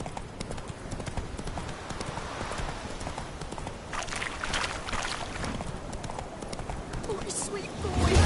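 Horse galloping in The Witcher 3 video game, a steady rhythmic clip-clop of hooves continuing throughout under ambient game sounds, with a brief spoken line.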